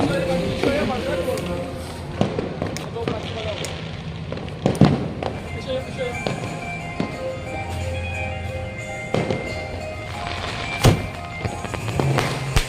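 Firecrackers burst during an outdoor Janmashtami celebration with kite flying, sharp cracks and thumps popping irregularly near and far over a busy crowd and ongoing chatter.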